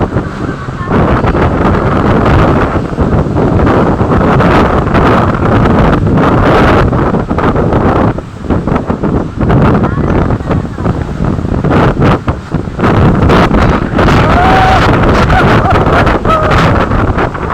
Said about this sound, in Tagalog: Ibig sabihin, malakas ang hangin.